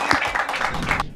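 A studio audience claps in quick, uneven bursts for about a second on a football talk show, fairly close and loud, then stops abruptly.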